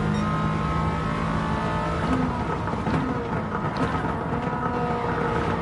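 Race cars in traffic in the Gran Turismo 7 racing game, including a BMW, roar continuously with layered engine drones and tyre noise, loud and steady throughout with slight shifts in pitch.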